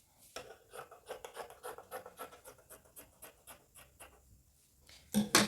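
Scissors snip steadily through fabric while cutting out a pair of shorts for sewing, a quiet run of regular close crunching cuts ending in a louder rustle.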